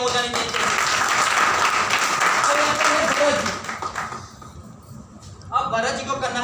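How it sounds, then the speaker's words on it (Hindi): Applause from an audience at a business seminar, loud and sustained for about four seconds, then fading as a voice begins speaking over the tail end. "तो उन लोगों के लिए भी जोरदार तालियां हो जानी चाहिए।"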